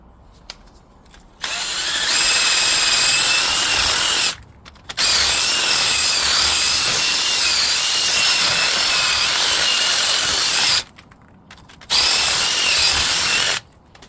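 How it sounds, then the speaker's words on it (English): A drill fitted with a wire brush scours rust from a seized hub nut on a BMW, whirring loudly and close in three bursts, with short pauses between them, making little headway. "Step 1, wire brush on a drill."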